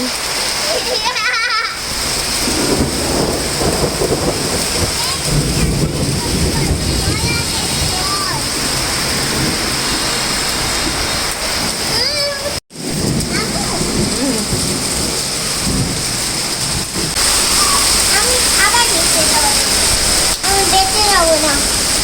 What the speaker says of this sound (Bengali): আজকে তো অনেক বেশি বৃষ্টি হয়েছে শিল পড়ছে শিলা বৃষ্টি